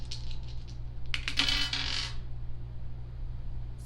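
Astrology dice are rolled and tumble in a brief rattling clatter of light clicks lasting about a second, over a steady low background hum in a quiet room.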